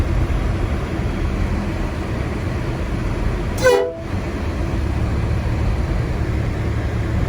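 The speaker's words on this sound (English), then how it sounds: "I just gave you a little train horn honk at the house you're staying at right now" A single short truck train-horn toot cuts through a steady, loud engine rumble that continues unbroken before and after, during a snowy drive in Big Bear, California.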